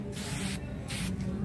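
Foaming engine cleaner hisses from an aerosol can in close, loud bursts, with short pauses between the sprays.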